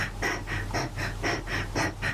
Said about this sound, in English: I asked Emma to create like a breathing beat,